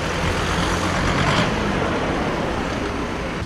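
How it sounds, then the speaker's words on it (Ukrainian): Dense morning traffic jam of dozens of cars on Myru Avenue in Khmelnytskyi, a loud continuous roar of idling and creeping engines with a heavy truck rumble and a brief hiss rising midway. "На проспекті Миру утворився затор з десятків машин."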